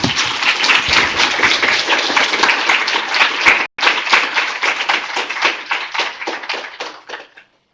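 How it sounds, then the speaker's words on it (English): A keynote audience applauding loudly and steadily for several seconds, with a brief cut in the middle, then the clapping thins out and fades to silence. "maybe if we can just have one big more round of applause from everyone in the room here"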